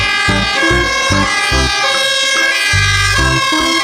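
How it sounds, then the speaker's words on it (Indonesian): A toy fire truck blares a loud, continuous electronic siren with a steady wailing tone and rhythmic pulsing beeps, close and dominant throughout. "Wow, lihat teman-teman, di sini ada mobil pemadam kebakaran."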